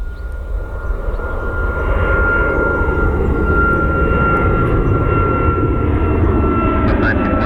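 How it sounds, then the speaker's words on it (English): A Boeing 737 MAX 8 jet airliner flies overhead, a steady, loud broadband roar with a thin whine that swells early and then holds constant throughout. "It's a 737 MAX 8 heading to Nashville."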